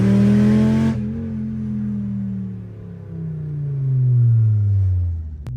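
A Volkswagen MK5 Jetta under test drive after a rebuild, heard from inside as the engine drones and climbs through the gears, a steady loud hum rising and falling in pitch with a brief sharp click at the end.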